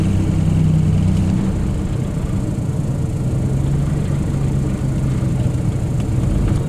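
Turbocharged Dodge Dakota engine idling nearby with its blow-off valve deleted, a loud, steady low rumble with a slightly wavering pitch throughout.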